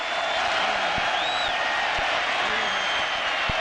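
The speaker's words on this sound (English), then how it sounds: "The sellout crowd in Raleigh urging the Wolfpack defense on" A sellout stadium crowd in Raleigh roars steadily for the NC State Wolfpack defense during a college football game against Clemson, a dense continuous wash of cheering with a few faint thumps and a whistle-like tone inside it.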